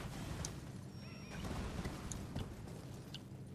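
A horse in Elden Ring whinnies over steady outdoor game ambience, with the neigh's thin rising cry and soft hoof clops in the background, moderately close and with no talking.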